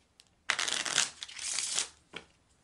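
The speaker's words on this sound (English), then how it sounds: "I'm shuffling for the card to place beneath gift." A deck of Kipper cards is shuffled close up in a quick riffle of crisp flutters, then a short pause and one final soft flick.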